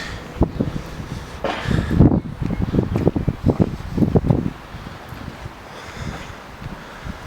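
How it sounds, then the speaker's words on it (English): Gusts of wind buffet the microphone outdoors at Ravensknowle Park in Huddersfield, coming in bursts of rumbling thumps for several seconds before easing to a quieter rustle. "It's a bit windy today actually."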